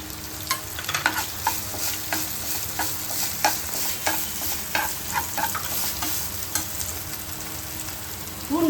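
Coconut sautéing in a pan for fish curry, with a steady sizzle and repeated scraping stir strokes close by; a spoon clatters against the pan near the end and no one speaks.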